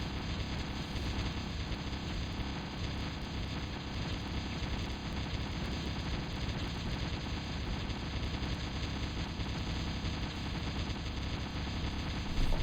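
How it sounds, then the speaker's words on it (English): Explosions and gunfire from the real-time strategy game Total Annihilation form a dense, continuous roar of overlapping blasts and rapid shots at steady loudness throughout. "Watch the pretty explosions burn brightly,"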